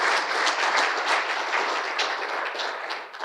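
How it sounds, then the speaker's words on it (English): Audience applause for Anna after her talk on battery management systems and battery safety, a steady moderate patter of many hands that carries on for about three seconds. "Big applause, Anna."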